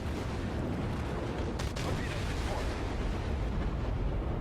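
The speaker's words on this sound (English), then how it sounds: "He's getting just wrecked by primary and secondary gunfire, and he's sunk." Naval gunfire in World of Warships, a steady, loud rumble of heavy booms and blasts from primary and secondary guns, with one sharp crack standing out midway, no voices.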